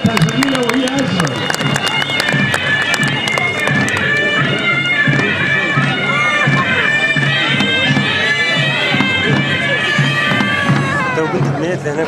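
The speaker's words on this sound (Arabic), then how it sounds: "تصفيق عليها مرة أخرى، تصفيق عليها" An audience claps and cheers loudly and steadily, the sound dense and continuous, with voices and shouts mixed through the applause.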